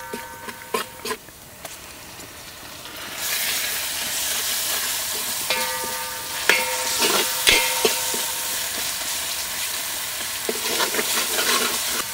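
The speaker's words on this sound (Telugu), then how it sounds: "3 చెంచాలు అల్లం వెల్లుల్లి పేస్ట్ వేసి పచ్చివాసన పోయే వరకు వేయించుకుందాం." Ginger garlic paste fries in a hot pan of oil while being stirred, a close, steady sizzle and hiss that swells after a few seconds, with intermittent scraping and clinks of the spoon against the pan.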